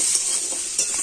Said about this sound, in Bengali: তো সমস্ত সবজিগুলো একটু ভেজে নিয়েছি হালকা করে